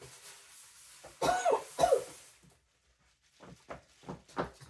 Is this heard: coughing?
yes